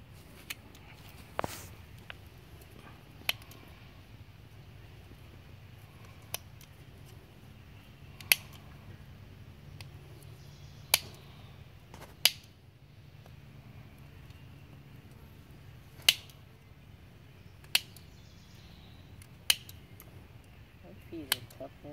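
Nippers trim a horse's hoof in a Hoof Armor mini trim, giving a dozen sharp, isolated snips spaced irregularly, close and distinct over quiet background.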